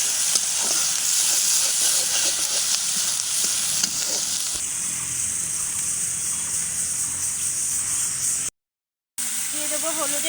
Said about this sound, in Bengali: এখন মরিচ পেঁয়াজগুলো খুব মানে লাল লাল করে ভেজে নেব।